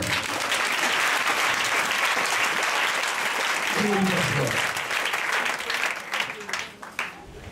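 A church congregation at a Sunday service for a temple dedication breaks into loud, sustained applause with cheering voices mixed in, the clapping thinning out and fading into scattered claps toward the end.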